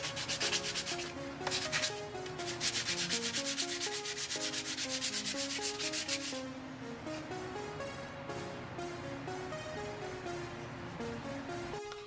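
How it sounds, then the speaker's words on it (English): Hand sanding of a wooden end-grain coaster block, rapid rhythmic back-and-forth rubbing strokes, close and dense for the first half, then slower and softer strokes. "Mr. Poorman was sanding late at night by hand"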